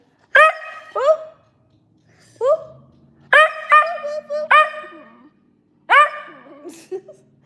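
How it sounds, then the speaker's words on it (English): A dog barks in a series of loud, close, sharp yips and barks, some single and some in quick pairs, spaced across the stretch with short silent gaps and a whimpering tail on one. "Timothy, stop barking."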